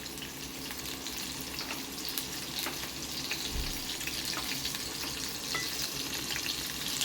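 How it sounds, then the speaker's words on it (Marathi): Green chillies fry in hot oil for a Mumbai Saraswat dried-fish dish, giving a steady close sizzle with faint crackles throughout and no talking. "ह्याच्यात आपण आता या हिरव्या मिरच्या घालणार."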